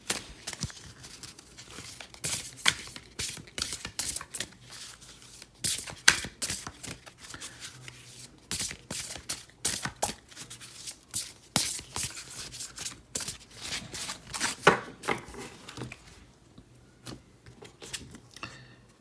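A tarot card deck is shuffled by hand, giving a steady run of close, sharp riffling snaps and papery slides that go on for nearly twenty seconds, with no one speaking.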